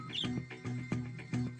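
Faint, soft bird chirps repeat in an even rhythm, four or five short tweets set against quiet background on a cartoon starship bridge.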